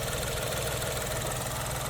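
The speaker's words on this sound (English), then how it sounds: "I like the noise that 3-cylinder engines make" A 2023 Nissan Rogue Platinum AWD's small turbocharged three-cylinder engine idling, a steady, dense, unbroken hum with no talking over it.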